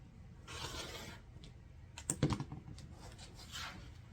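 A rotary cutter slices through fabric along a Stripology XL quilting ruler, with short scraping, rasping strokes and a cluster of sharper scratches near the middle, close and fairly quiet.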